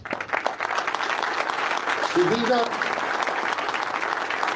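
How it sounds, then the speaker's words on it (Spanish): Applause from a church congregation during a homily at a Mass in El Suncho, a steady crowd clapping that fills the clip beneath a priest's voice talking over it. "Le damos un aplauso, ¿verdad?"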